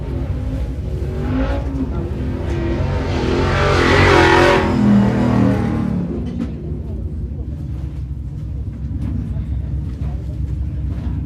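A stock/comp race truck crosses the start-finish line at the High Desert 100 in Powell, Wyoming, its engine roar swelling to a peak midway and then fading as it passes, while commentators talk over it.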